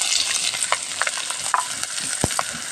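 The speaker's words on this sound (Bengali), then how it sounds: "শুকনো ঝালটা একটু ভাজা ভাজা হয়ে গেলে দিয়ে দেব এই যে এই বাটিতে আছে কাঁচা ঝাল, পেঁয়াজ আর রসুন কুচি।" Chopped green chili, onion and garlic frying with dried chili in hot oil, a close, quiet crackling sizzle with soft stirring scrapes and a few sharp pops.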